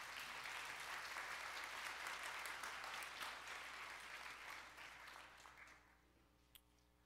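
Church congregation applauding at a Sunday worship service, loud sustained clapping that gradually fades out toward the end.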